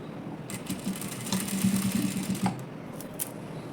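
Domestic sewing machine stitching small pleats into a frilled sleeve, a steady close mechanical whirr with rapid needle ticking that swells mid-clip, brief clicks around it, no talk.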